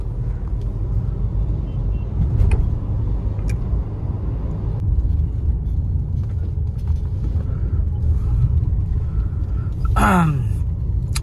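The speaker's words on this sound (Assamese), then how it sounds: "গাড়ীখন একচুয়ালি ডিজেল হয় কিন্তু চলাই মেলি আপোনালোকৰ ফিল হ'ব যে মই পেট্ৰল গাড়ীয়ে চলাই আছো" A diesel Ford EcoSport with its engine in good condition drives along a road, a steady low engine rumble running throughout, with a brief hiss like an air brake from nearby traffic near the end.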